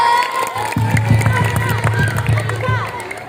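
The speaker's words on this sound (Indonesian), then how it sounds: "Angkat tepuk tangan dong buat paslon nomor 3." A crowd of students at a school debate for student council candidates claps and cheers in steady, dense applause under a noisy hall ambience, with voices mixed in.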